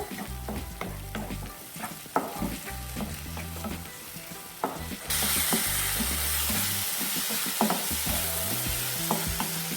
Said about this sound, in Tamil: தக்காளி ஆட் பண்ணி நல்லா எண்ணெய் பிரிஞ்சு வர வரைக்கும் வதக்கி விட்டுக்கோங்க